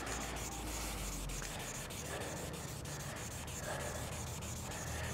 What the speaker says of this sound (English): Now I've got a piece of 2000 grit.